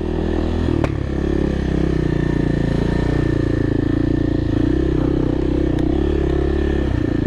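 Dirt bike engine on an off-road OHV trail loop near Town Creek, loud steady close engine drone with occasional clatter and knocks over the rough ground, no talk.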